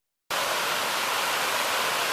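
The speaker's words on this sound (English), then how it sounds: "This is one of the many waterfalls we'll see in the Transylvania County, land of the waterfalls." A waterfall in Transylvania County, North Carolina, starts abruptly after a brief silence and then roars as a dense, steady rush of falling water, loud and close, with no one talking.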